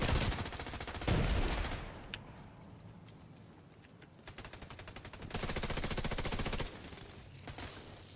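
Rapid automatic weapon fire in a PvE shooter game comes in several dense bursts, loud and sharp, separated by brief quieter pauses with faint clicks and ambient game noise.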